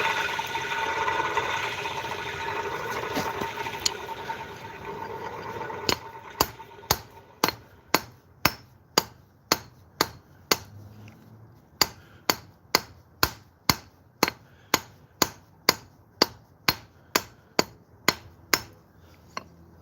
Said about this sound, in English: Gonna be real careful. Take it a few hits at a time.